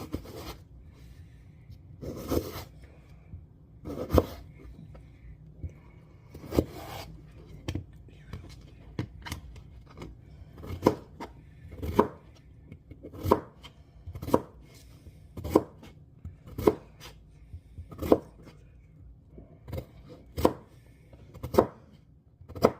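A knife chops vegetables for minestrone on a cutting board in a kitchen, giving a steady series of sharp, close thuds roughly every second, with soft rustling between the cuts.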